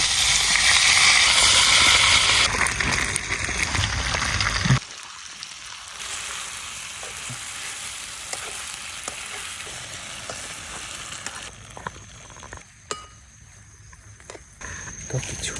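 Chicken frying in a pan at night in a jungle camp, a bright hiss and sizzle that is loud at first, then drops to a quieter, steady crackle with occasional stirring clicks.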